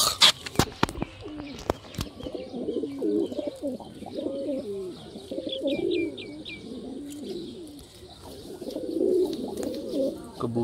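A Sialkoti pigeon coos softly while being held and handled, repeated low rolling coos close by, with chirps and faint handling noise around them.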